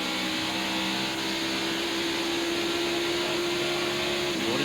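A NASCAR stock car drones steadily around the track during the 1993 Transouth Financial 500, a continuous high engine whine heard as if from onboard, loud and unbroken with no talk.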